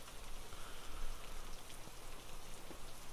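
Steady rain in the Hurtworld video game, a dense even hiss of drops on surfaces with scattered louder patters, continuous and with no voices.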